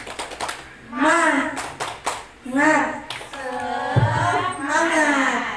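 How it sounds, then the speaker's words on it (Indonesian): Teachers at a positive-culture dissemination session perform a rhythmic spirit clap, several quick bursts of sharp claps alternating with loud chanted voices, close and lively. "bertepuk semangat dulu supaya proses belajar kita tetap semangat"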